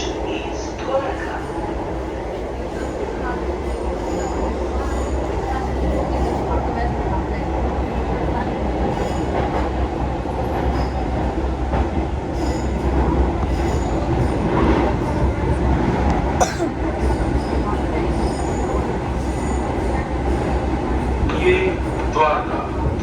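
A Delhi Metro train runs toward Dwarka with a steady low rumble and faint rail clatter, heard from inside the carriage under recorded announcements.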